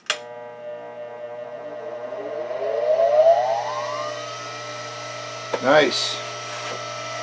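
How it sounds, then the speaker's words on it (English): A Baldor bench grinder with a heavy cast-iron body and a new CBN grinding wheel spins up, its whine rising in pitch over a few seconds and then settling into a smooth steady hum, with a brief spoken word partway through. "This Balder grinder is great."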